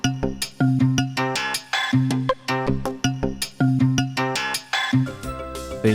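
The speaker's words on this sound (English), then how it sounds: "Korg got rid of the subtractive bit of it and chained the short samples together into a loop." A Korg Wavestation synthesizer plays a wave sequence, short samples chained into a rhythmic loop of bright pitched synth hits with punchy low notes, repeating in quick, steady pulses with brief gaps, loud and alone.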